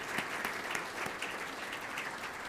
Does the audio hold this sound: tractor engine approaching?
no